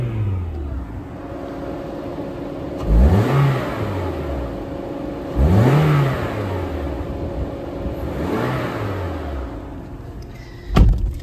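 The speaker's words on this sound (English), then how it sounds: "We're gonna do a quick rev test." A Toyota RAV4 LE AWD engine revs three times in a rev test, each rise and fall in pitch clear and close over a steady idle, ending with a sharp click.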